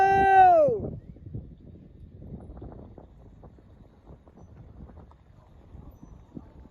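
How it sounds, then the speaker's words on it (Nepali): Wind gusts across an outdoor campsite as a low, steady rushing rumble buffeting the microphone, following a brief loud tonal sound at the start. "तपाईहरु अहिले हावाको आवाज सुन्दै हुनुहुन्छ होला"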